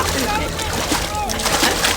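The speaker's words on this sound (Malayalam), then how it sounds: "അളിയൻ വെള്ളത്തിൽ വീണ് രക്ഷിക്കണം" A man falls into water in a movie scene, giving a loud, sustained splash and sloshing that fills the short stretch, with voices mixed in.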